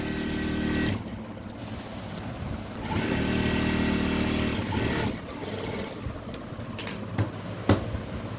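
A sewing machine stitches a blouse in short runs, its steady mechanical whir starting and stopping at close range, with a few light clicks near the end.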